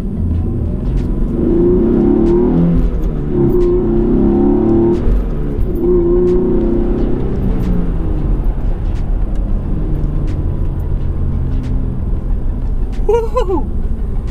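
A 2013 Hyundai Genesis Coupe 3.8 R Spec with its V6 engine pulling hard, a steady loud drone that rises through the gears, with a brief sharp squeal near the end.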